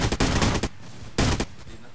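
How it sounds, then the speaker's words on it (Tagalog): Gunfire in the mobile battle royale game Rules of Survival: two loud, rapid automatic bursts, the first longer and the second shorter, separated by a quiet pause, with no talking over them. "Ayan, binabaril-baril ka."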